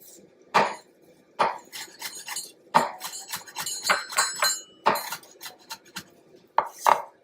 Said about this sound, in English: Now let's get to chopping up this parsley.